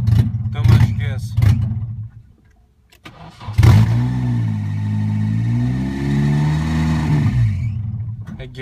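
A Nissan KA24DE engine with a fault cranks, catches and revs hard, then holds a loud rising and falling drone before settling, close by, with a person talking at the start.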